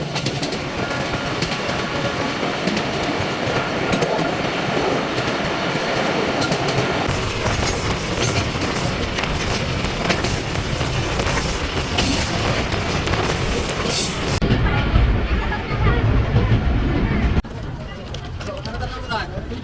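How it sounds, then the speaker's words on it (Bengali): Passenger train running on the Faridpur to Bhanga rail line in Bangladesh, a steady loud rumble of wheels and carriage noise throughout, with a shift near the end and a brief high whine; voices are faintly mixed in. "1 মিনিট যাত্রা বিরতি দিয়ে আমরা বাকনটা ছেড়ে গেলাম।"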